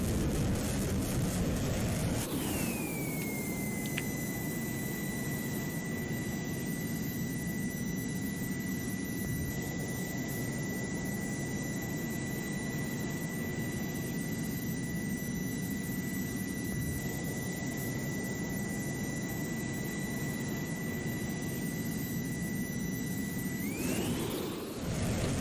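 A jet aircraft engine in the GeoFS flight simulator game drones steadily and loudly with a high whine held throughout, spooling up at the start and winding down near the end, with no voices.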